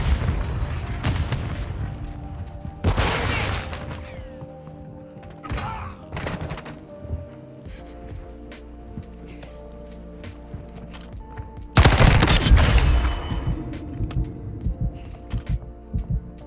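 Honey Badger SMG firing in Modern Warfare 2, a shorter-barrelled build heard in several separate bursts of sharp close shots, with quieter gaps and footsteps and mechanical clicks between them.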